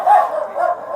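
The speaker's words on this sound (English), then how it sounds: "The dog." Dog barking outdoors in a garden, a short close vocalization with a whiny, yipping quality and no talking.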